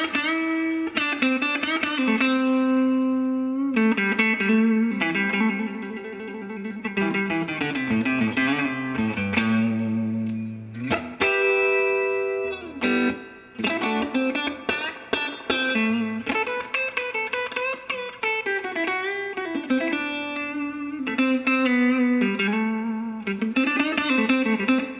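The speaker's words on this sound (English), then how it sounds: "distortion pedal" A heavily distorted electric guitar through a Boss Metal Zone MT-2 pedal and Gibson Falcon tube amp plays sustained chords and bending notes, thick and saturated, with brief gaps between phrases.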